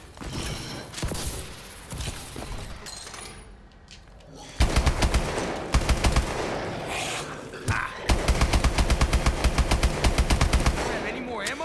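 Rapid automatic gunfire from Call of Duty: Advanced Warfare zombie mode, with loud bursts in two main stretches separated by a quieter pause and scattered single shots early on.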